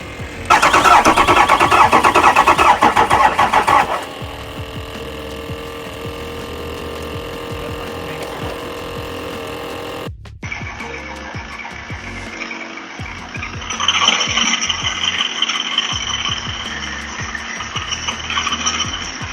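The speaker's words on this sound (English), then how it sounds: "Once all the maintenance and everything was done to the truck itself, we were ready to start the truck up." A 2004 Ford 6.0 Powerstroke diesel pickup on a build cranks with a loud, rough starter whir for several seconds, goes briefly quiet, then catches and settles into a rattling, clattering idle that swells slightly, with no talking.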